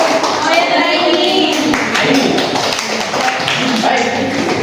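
An audience claps together at a discussion gathering, producing dense, steady applause that fills the whole stretch at close range, with voices mixed in.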